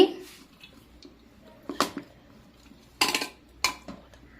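A spoon clatters and scrapes against a bowl in a few sharp knocks while paneer paratha stuffing is stirred, close by, with quiet gaps between the hits.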